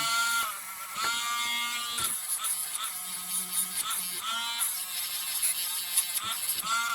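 A rotary polishing tool buffs copper craft wire loaded with polishing compound, giving a steady high-pitched whirring drone that rises and falls in pitch as the wheel is pressed against the wire, close and continuous with no talking.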